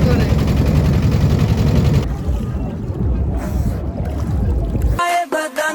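A hired boat carrying four people on a river toward Udhunia in Ullapara, Sirajganj, with loud, rough rumbling and water noise that shifts partway through, followed by a brief stretch with voices near the end.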